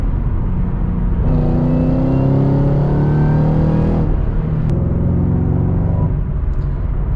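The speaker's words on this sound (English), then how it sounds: "It's actually a pretty throaty exhaust for stock, I'll give it that." A 2014 Shelby GT500 with its stock exhaust rumbles loudly from inside the car as it drives, the throaty engine note rising through a few seconds of acceleration, then dropping back to a steady drone.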